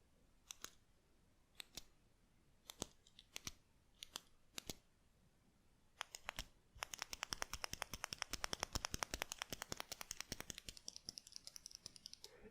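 A retractable pen with a rubber stylus tip clicks with a rough, less-than-smooth action: a few spaced clicks at first, then a long rapid run of close, crisp clicks.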